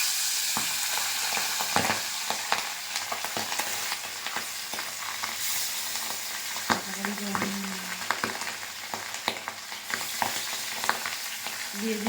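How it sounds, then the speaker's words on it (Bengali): Pabda fish sizzle steadily in hot oil for a mustard pabda dish, a loud, continuous crackle with sharp spits and pops close to the pan. "তেলটা অনেক ভালো গরম হওয়ার পরে মাছগুলো দিতে হবে।"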